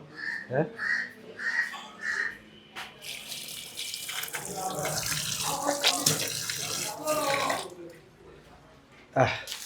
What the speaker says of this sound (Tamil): கை கழுவும் இடம் செம்பு பானையில் தண்ணி